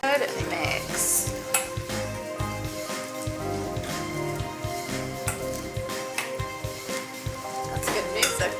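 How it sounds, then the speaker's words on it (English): Food being stirred and mixed in a pan while it sizzles and fries, with spoon scrapes and clinks against cookware in a steady, busy rhythm, close and moderately loud, with background music and some talk. "I'm gonna go ahead and give this a good mix."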